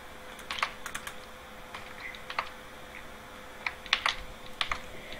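Bursts of quick keystrokes on a computer keyboard, irregular clusters of close, faint clicks and taps during a Garry's Mod game session, no speech.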